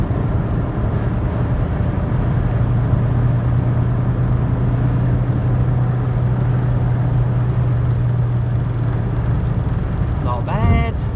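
A 1986 Vauxhall Cavalier GLSi, an Opel Ascona C, accelerates with a steady low engine drone and road rumble heard from inside the cabin, and a voice breaks in briefly at the very end.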